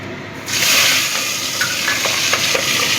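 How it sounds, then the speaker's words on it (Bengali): Prawns hit hot oil and burst into a loud, close sizzle after a brief quiet start, the frying hiss continuing steadily with small pops and crackles throughout. "তেলটা ভালো মতো গরম হয়ে গেছে, এবার আমি মাছগুলো ভেজে নেব।"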